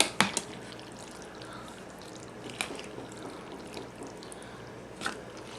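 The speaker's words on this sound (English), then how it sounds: "Now we're going to take this lovely pot of roux and we're just going to pour it over the mac and cheese" A pot of roux sauce is poured over baked macaroni and cheese, giving soft, faint pouring and dripping with a few brief clatters near the start, middle and end.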